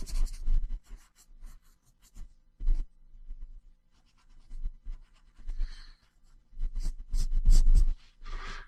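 Coloured pencils scratch across paper in uneven bursts of sketching strokes, close and fairly quiet, with short pauses between quicker flurries and no talk.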